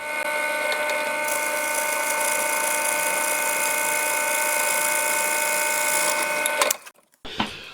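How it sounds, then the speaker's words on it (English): A steady high-pitched motorized whine from a 10mm drill boring holes in a guitar runs continuously, loud and close, then cuts out abruptly near the end. "I went straight in with a 10mm drill."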